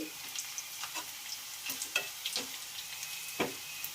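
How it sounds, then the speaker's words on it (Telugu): Onions deep frying in oil for a chicken curry give a faint, steady sizzle with scattered small pops and occasional stirring clinks, heard close with no talk. "సో మనకి ఆనియన్స్ ఇలా ఫ్రై అయిపోవాలండి."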